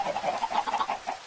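Minecraft chickens cluck in a quick, bobbing run of short calls, close and clear with no talk over them.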